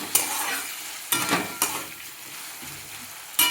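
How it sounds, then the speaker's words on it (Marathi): Potatoes frying in a pan for bhagar, with a steady sizzle broken by several louder scraping stirs of a spoon against the pan, close up and alone without talk. "बघा कसे मस्त असे तळायला लागले."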